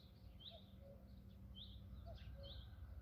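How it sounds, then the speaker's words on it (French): Small garden birds sing outdoors, with faint, distant high chirps and brief calls repeating at intervals over a low, steady ambient hum. "Les oiseaux qui chantent."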